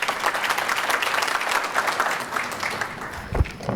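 An audience claps at a Keep Louisiana Beautiful event during Love the Boot Week, a dense, steady burst of applause from many hands that holds for several seconds without pause.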